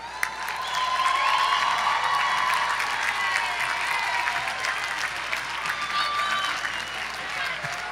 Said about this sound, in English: Please honor all bachelor degree awardees with your applause.